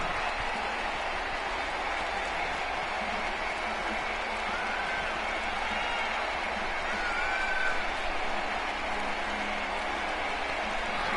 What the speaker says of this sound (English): The crowd seems to love him. He's loving the crowd.